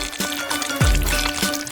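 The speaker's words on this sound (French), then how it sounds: "ce mélange du sucre, il faut glisser dans les moules semi-circulaires" A sugar mixture is poured into semicircular molds, producing a brief liquid pour with a gurgling rise in the middle, close and clear, and no voices.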